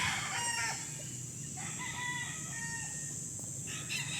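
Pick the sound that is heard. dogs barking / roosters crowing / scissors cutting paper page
roosters crowing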